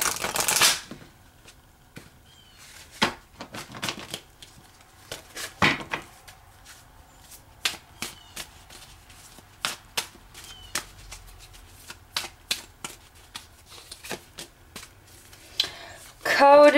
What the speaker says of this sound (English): So what I want to do is pull some romance angel cards for the twin flame, the soulmate,